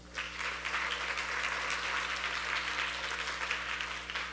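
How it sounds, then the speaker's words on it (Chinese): Applause for legislator Li Junyi at a parliamentary open-forum event, a steady round of clapping from a modest audience lasting several seconds over a faint electrical hum. "请大家等一下别忘了就给予热烈的掌声"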